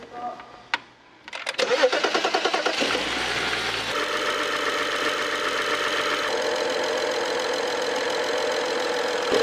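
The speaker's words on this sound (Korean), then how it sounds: "엔진이 열간 시에 소음이 났었잖아요" A BMW F07 5 GT engine cranks and starts, then settles into a steady, loud, close idle with a faint rhythmic ticking, on a car whose engine makes a noise when hot.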